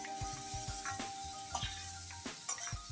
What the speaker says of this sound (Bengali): আমি একটু মাছটা ভেজে নিই হালকা করে।